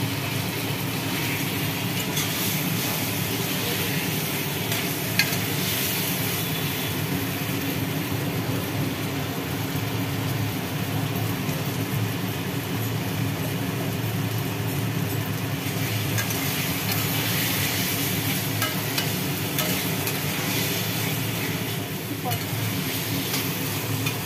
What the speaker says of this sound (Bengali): মোটামুটি আলু মশলা কষানো হলো।